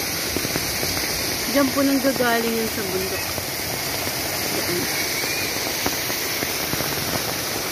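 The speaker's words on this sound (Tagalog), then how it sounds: "Sobrang lakas po kasi ng ulan." Heavy downpour over a flooding area near a mountain, a steady broadband hiss of rain running throughout, with a voice talking over it in the first few seconds.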